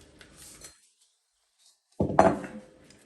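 A knife slices mild peppers for pomegranate pepper jelly. A faint stretch gives way to silence, then one sharp, close knock of the blade on the board that rings briefly.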